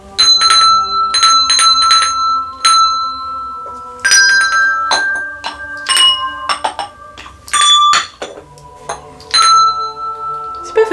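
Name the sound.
bells ringing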